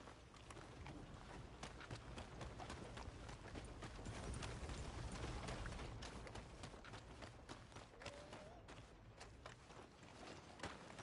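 Quiet, steady clip-clop of horse hooves in the video game Red Dead Redemption 2, a continuous running rhythm heard at a distance with no talk.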